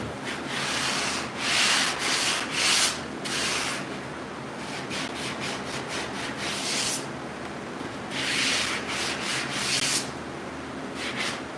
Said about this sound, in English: See, now that that's sanded,